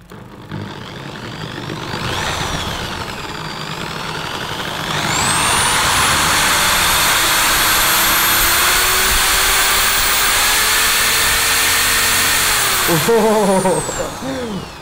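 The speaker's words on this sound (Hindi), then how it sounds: "साढ़े आठ सौ वाट की मेरी ड्रिल मशीन है इसको इसमें जोड़ देते हैं" An 850 watt electric drill spinning a homemade generator built from a microwave transformer, whirring up to a loud, steady high-pitched whine that holds for several seconds before winding down.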